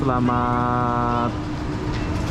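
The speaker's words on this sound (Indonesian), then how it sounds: "Ini adalah stasiun kereta api terbesar di Malaysia." A train rumbles at KL Sentral railway station in Malaysia, with a sustained horn-like tone over the first second and steady rail noise beneath it.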